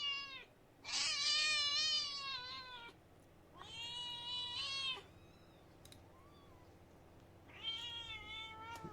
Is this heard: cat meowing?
yes